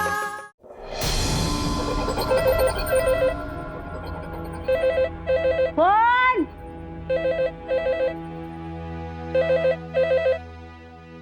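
A telephone rings in repeated double electronic trills, loud and close, with a brief sliding tone in the middle and a short spoken word early on.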